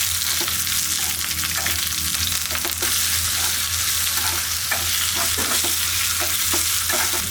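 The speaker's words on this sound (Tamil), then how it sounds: "இதையும் ஃபைனலாக போட்டு வதக்கிக்கலாம்." Shallots being sautéed in a pan with dried chillies and curry leaves, a steady close sizzle with occasional stirring scrapes and clicks throughout, no voices.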